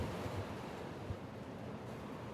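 Rough storm wind buffeting the microphone over churning waves on a boat at an island anchorage, a constant low roar with a brief gust near the middle.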